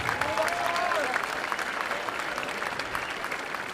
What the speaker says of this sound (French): On peut les applaudir à nouveau, effectivement.